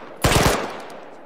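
A short, loud burst of rapid automatic gunfire erupts in a military combat video game, several quick shots in a tight cluster followed by a fading tail.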